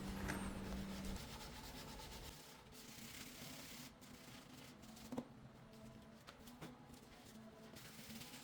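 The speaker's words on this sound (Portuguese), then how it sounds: "Agora eu vou partir para o lixamento manual, trabalhando as pequenas partes" Sandpaper rubs by hand over the small parts of a handmade wooden chessboard base. The scratchy strokes are quiet and continuous, with a few faint knocks and no voices.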